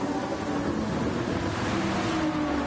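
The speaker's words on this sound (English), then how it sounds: "Just trying to see this, hear the sound of the rain really." Steady rain and spray sound during a wet race in a racing video game, likely GT Pro in difficult conditions, heard as a dense, even wash of noise with no talk.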